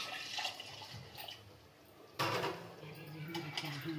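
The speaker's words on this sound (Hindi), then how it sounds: "ये पानी डाल के खंगाल के डाल रही हूँ" Water splashes as a woman rinses a masala-coated pot in a home kitchen, with a loud pour near the middle among lighter clatter and trickles, close by.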